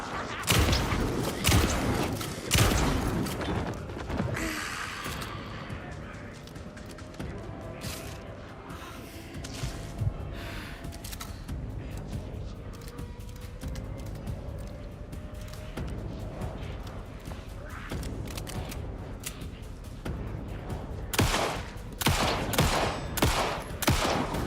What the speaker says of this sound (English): Releasing bullets en masse.